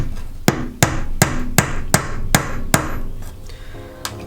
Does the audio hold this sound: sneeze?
no